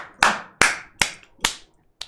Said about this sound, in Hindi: बजा ताली, देख क्या रहा